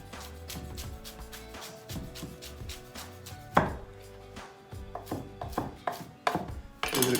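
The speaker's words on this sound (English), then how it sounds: "Give it a quick chop" A knife chops through rolled-up basil leaves on a cutting board, a close run of sharp, uneven chops that speed up and grow louder toward the end.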